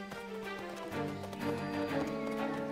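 A horse's hooves clip-clop steadily over a continuous tonal background near a pair of bear cubs in a farm orchard with a large cherry tree.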